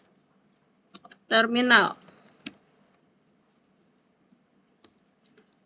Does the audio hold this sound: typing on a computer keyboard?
yes